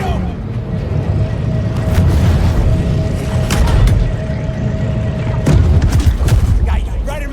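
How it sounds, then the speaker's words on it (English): A torpedo blast from the Maneater video game comes as loud underwater booms and rumbling impacts, with several sharp hits standing out over a continuous churning roar. "Can y'all outswim a torpedo?"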